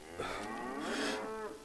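A cow in the DayZ video game lets out one long, loud, close moo that swells and holds for over a second.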